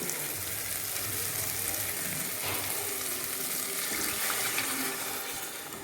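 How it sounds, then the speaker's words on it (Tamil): Steady broadband rush of water pouring into a pot of potato kuruma over a sizzling, bubbling base of ground paste, continuous and close, with no talking. "கொஞ்சம் தண்ணி ஊற்றிக்கலாம்"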